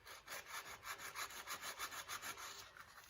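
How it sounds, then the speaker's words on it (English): Rhythmic back-and-forth rasping of sandpaper on wood, close and steady, about five strokes per second with no voices. "We're gonna just do some sanding."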